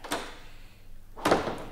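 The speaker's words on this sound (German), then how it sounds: "Jetzt schließe noch einmal die Tür, damit du es begreifst." A door is shut quietly indoors, two short soft thuds with a latch click about a second apart, close by with a hushed pause between them and no speech.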